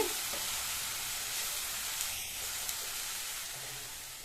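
Bitter gourd pieces sautéing over a high flame in a pan give off a continuous close hiss and sizzle, with a couple of faint clicks of stirring partway through.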